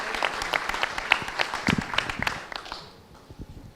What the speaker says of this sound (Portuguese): Peço uma salva de palmas ao Dr. Pedro Trengross.